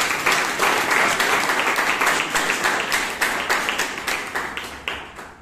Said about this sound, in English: I think they deserve a round of applause.